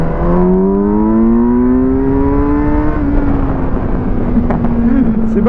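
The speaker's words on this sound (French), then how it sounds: "quand le moteur commence à venir taper fort là-haut" Kawasaki Versys 1000 SE adventure motorcycle engine revving hard and loud, pitch climbing steadily under acceleration before easing off into a steady high drone.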